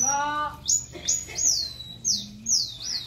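Someone blows high, whistled calls imitating birds and squirrels in short repeated bursts: sharp descending chirps and trills, fairly close, with quiet gaps between.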